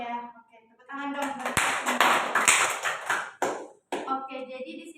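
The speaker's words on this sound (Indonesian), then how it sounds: "Oke, tepuk tangan dong." Students in a group counseling session clap after acting out a psychodrama about honesty, a short burst of scattered handclaps rising and fading between spoken lines at moderate distance.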